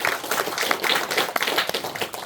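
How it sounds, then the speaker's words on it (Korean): Brief clapping from a lecture audience at a talk on Yi Sun-sin's naval victories, a scattered patter of hand claps lasting a couple of seconds at moderate volume. "일단 박수 한번 치셔야 돼요"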